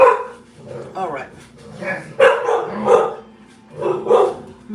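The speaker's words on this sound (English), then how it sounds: "My dogs." Pet dogs bark in short repeated bursts close by indoors, several loud yaps spaced across the moment, with a person's voice mixed in among them.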